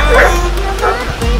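A firefighters' search dog close by gives a few short, yipping barks with a whiny, whimpering edge during a rescue demonstration.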